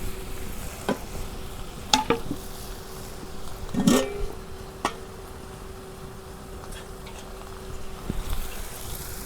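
Country chicken sears in a hot wok as a little water goes in for a bhuna curry, with a steady close sizzle broken by a few sharp metal clinks of stirring.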